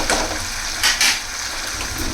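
Tomato puree fries in a pan with a steady close hiss and bubbling, broken by two brief louder spatters partway through, no voices over it.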